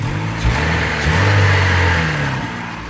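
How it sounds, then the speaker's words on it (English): A Hyundai Tiburon with 51K miles runs freshly after a timing belt and full tune-up, its engine rising and falling through a couple of smooth revs, close and loud, with no talk. "the car sounds absolutely fantastic right now."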